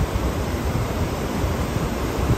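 A creek running high after rain on a rural ranch, a steady broadband rush of flowing water that holds close and continuous throughout with no voices.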